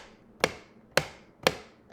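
A chess clock button with neoprene bumpers pressed three times at an even pace, each press a crisp, close, damped thud-snap with a short decay, no voices.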